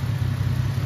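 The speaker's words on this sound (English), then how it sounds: "It's running. It revs. It's just got dead miss." A red Toyota Supra engine with a dead misfire runs in a brief, steady, low rumble, close and fairly loud.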